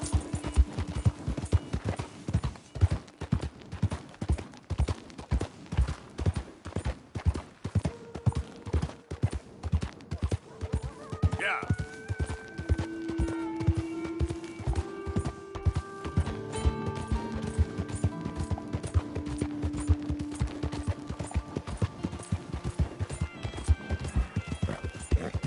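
A horse gallops in Red Dead Redemption 2, its hooves thudding in a fast steady rhythm for the whole stretch, with a whinny partway through and tonal game music rising underneath.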